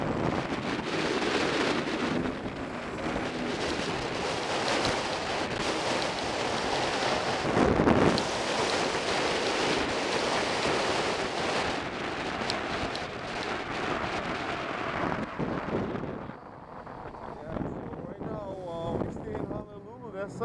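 Motorcycles riding on a highway on Hawaii Island, heavy steady wind buffeting the microphone with a broad roar of engine and road noise that eases near the end, a voice briefly heard over it.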